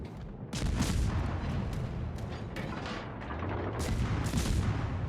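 Warship guns fire during a naval video game battle, a run of heavy, booming blasts and rumbling explosions that fill the whole stretch at a loud level with no talking.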